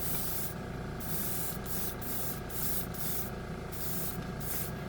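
Satin clear coat spray paint hisses from an aerosol can onto a Gunpla model piece in a series of short, close bursts separated by brief pauses.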